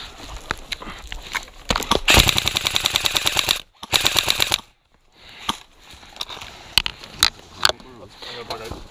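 Rapid automatic gunfire in a multiplayer shooter, a dense burst of about a second and a half followed by a shorter burst, with scattered single shots and players talking over it.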